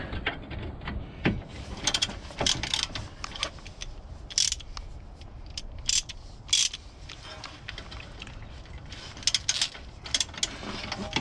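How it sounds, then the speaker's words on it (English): A ratchet clicks in short, uneven bursts while snugging the drive shaft bolts, size 16, on a 2010 Seat Ibiza during a front wheel bearing hub install, close up with quiet pauses between turns. "I'm gonna tighten them up just snug but not taut"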